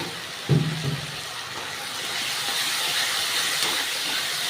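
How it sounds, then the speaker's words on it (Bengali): A spice paste with turmeric and salt sizzles in hot oil while being stir-fried for a jackfruit and prawn dish, opening with a brief clatter and then settling into a steady, soft hissing. "এবার ভালো করে কষিয়ে নেব"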